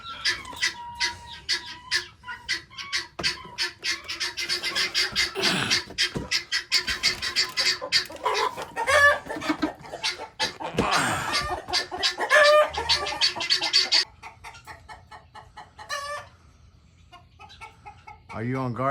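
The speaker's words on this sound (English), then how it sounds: "Well, you got a chicken up there too." A chicken clucks repeatedly in short bursts, close and fairly loud, with other bird sounds and a person talking over it.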